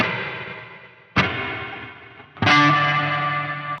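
A guitar played through a Meris Mercury X reverb pedal rings out in two struck chords, each blooming into a long, shimmering, modulated wash that trails off slowly, with no talking.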